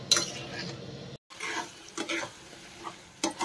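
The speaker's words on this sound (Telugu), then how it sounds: "ఉల్లిగడ్డ, టమాటా, కాజులు, యాలకులు, లవంగాలు, దాల్చిన చెక్క ఇవన్నీ ఇట్లా ఫ్రై చేయాలి." Onion and tomato frying in a pan with cashews, cardamom, cloves and cinnamon for paneer masala curry, a soft crackling sizzle with intermittent scraping stirs, close and fairly quiet, no talk.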